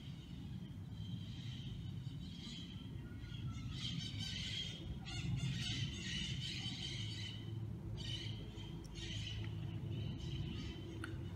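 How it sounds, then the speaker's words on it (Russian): Several parrots squawk and screech outside a window in the distance, harsh calls coming in bursts over a low steady background hum. "Это у меня так попугаи кричат за окном."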